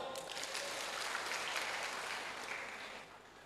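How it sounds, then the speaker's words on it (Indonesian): Church congregation applauding during a sermon: soft, even clapping from a crowd that swells slightly and fades over a few seconds, heard at a distance and fairly faint. "Tepuk tangan."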